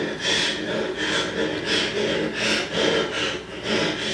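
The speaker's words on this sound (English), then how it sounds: "Heavy breathing." A heavy breathing sound effect played from a remote-controlled speaker, with slow, rhythmic raspy inhales and exhales repeating about every half second, close and steady.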